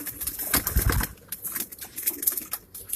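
A Ferozpuri pigeon, a royal breed, is handled at close range, with soft coos and brief bursts of wing flapping and fluttering scattered across a few seconds.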